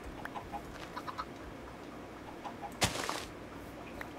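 Minecraft chickens in a StoneBlock 3 modpack world, a series of soft, short clucks spaced irregularly at close range, with a brief louder rustling burst near the end and no talking.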